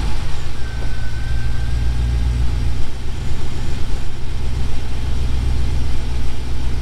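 A car engine runs at a steady idle with a low, continuous rumble, close and fairly loud throughout, with no voices.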